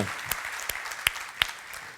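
A church congregation applauds faintly during a sermon, a soft uneven patter with a few louder single claps standing out at roughly regular intervals.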